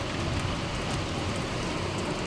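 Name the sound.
rain falling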